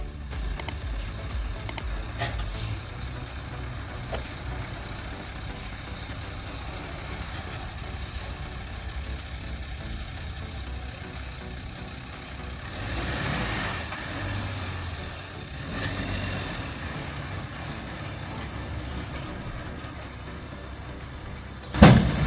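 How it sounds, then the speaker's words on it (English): A massive truck on a rough mountain trail rumbles low and steady as it reverses and inches forward, with occasional clicks and a brief hiss, ending in a sharp thump, with no talking. "As he reversed and inched forward again, trying to keep the massive truck under control"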